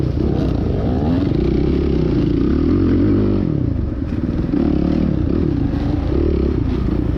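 A Suzuki 450 dirt bike engine drones loud and close through a tight, technical cross-country race, its revs rising and falling steadily amid clattering and scraping, with no talking.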